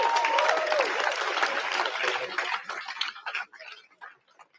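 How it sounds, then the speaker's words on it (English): Applause from an audience at an antiwar rally and concert in New York City, steady dense clapping that thins and fades to scattered claps over a few seconds. "I think that we should give him another round of applause."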